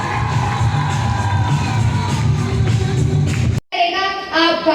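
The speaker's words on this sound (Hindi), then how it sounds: "जोरदार तालियां" A school crowd at an Independence Day celebration cheers, whoops and claps loudly after a performance, with children shouting over a dense, sustained roar that breaks off abruptly before other voices and music follow.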